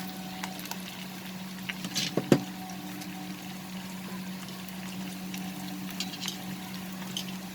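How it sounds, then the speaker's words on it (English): Pieces of chicken sauté in a pan over a medium flame for pepper chicken, with a faint, steady sizzle and a few small pops and clinks. "Just saute it. I am doing this over medium flame."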